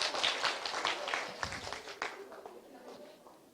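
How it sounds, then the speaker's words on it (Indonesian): A seminar audience of counselling teachers gives a short burst of applause that thins and fades out within a few seconds, with a voice partly over it. "Tepuk tangan buat kita semua."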